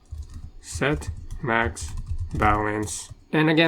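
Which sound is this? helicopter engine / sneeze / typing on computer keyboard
typing on computer keyboard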